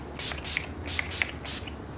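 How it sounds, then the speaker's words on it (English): Urban Decay All Nighter setting spray, an older formula with Skindinavia, misted from a pump bottle in four quick hissing bursts, close and fairly soft. "I'm just gonna set it all down with the Urban Decay All Nighter"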